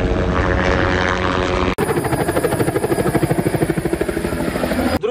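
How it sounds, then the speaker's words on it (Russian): A helicopter delivering cut Christmas trees on a tree farm in the USA roars steadily and loudly up close, its rotor thumping in a fast, even beat after a brief break in the sound. "как вертолет приносит елочки"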